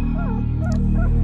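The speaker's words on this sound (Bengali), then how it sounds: "কুকুরটা ডাকছে, পরিত্রাহী চিৎকার।" An audio-drama dog barks and whimpers desperately: a few short, high, wavering yelps and whines over a low steady hum, loud and close, lasting just over a second.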